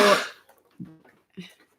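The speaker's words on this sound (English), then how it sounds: "go ahead and take that while you go clear your throat" A harsh throat clearing opens, followed by two short, softer throaty grunts spaced apart in an otherwise quiet room.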